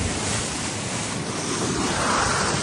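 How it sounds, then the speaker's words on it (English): Ocean waves breaking over the deck of a racing sailboat at sea, a dense continuous roar of surf and spray mixed with wind noise, loud and unbroken for the whole stretch. "Some waves breaking over the deck."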